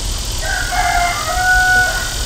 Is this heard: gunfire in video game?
no